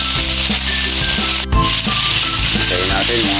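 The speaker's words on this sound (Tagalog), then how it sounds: "Sunod natin ang sibuyas. Lagay na natin ang konting karne." Onion and a little meat fry loudly in a hot pan, a close, steady sizzle with a brief sharp clatter partway through and bits of stirring underneath.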